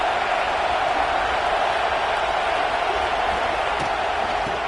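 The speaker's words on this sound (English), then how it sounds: "This crowd bringing the energy and noise early." A football stadium crowd roars and cheers in a dense, continuous wash of noise that stays loud and even from start to finish, with no distinct voices standing out.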